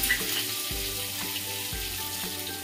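Urad dal frying in oil in a pan, with a steady close sizzle running throughout and a few soft stirring knocks.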